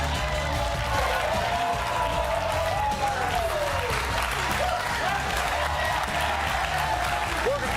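Studio audience clapping in a steady, dense wash on a Sunday footy finals show, continuous and fairly loud throughout, with a host talking over it.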